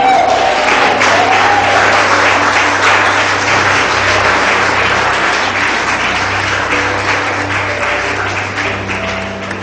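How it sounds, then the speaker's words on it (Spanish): A church congregation breaks into strong, sustained applause during a sermon. The thick, loud clapping runs steadily for several seconds and tapers only a little toward the end. "Denle un fuerte aplauso al Señor."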